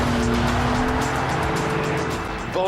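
A modern Bentley Continental convertible soft-top drives with a steady, loud engine drone throughout, a rising tone near the start and a brief sharp shift in pitch at the end.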